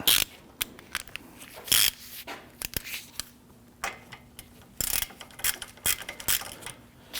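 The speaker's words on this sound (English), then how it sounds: "I'm now going to put the socket on my ratchet." A socket ratchet works the bolts on a Ford Taurus front wheel hub, giving bursts of sharp rapid clicking with short pauses between, close and fairly loud, with no voices.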